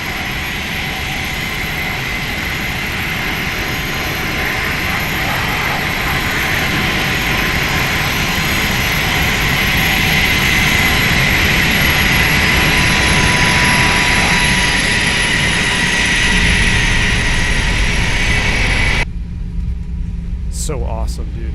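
An Airbus A320 with CFM engines roars past in a flight simulator flyby, a loud sustained jet engine rush with high whine that holds steady for most of the clip before cutting abruptly to near silence.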